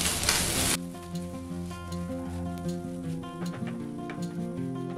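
Mashed potato filling with salt is stirred in a hot pan, opening with a loud burst of sizzle that settles into a softer steady frying hiss with scraping stirs, no talking.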